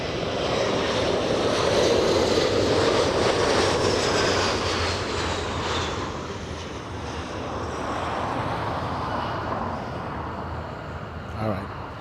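A Delta jet airliner at LAX airport roars loudly and steadily as it flies past, with a broad engine rumble that slowly shifts in pitch and fades a little near the end.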